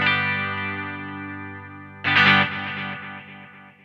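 Guitar through a Strymon Volante echo set to studio mode: a sustained chord then a bright restrum, with repeats carrying more top end trailing after; close, loud, no speech.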